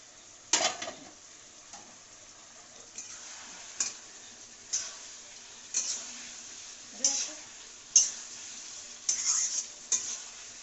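A spiced mixture being sautéed (kosha) in a pan, soft sizzling with a spoon scraping and clicking in a regular rhythm about once a second, close and fairly quiet, with some faint voice underneath.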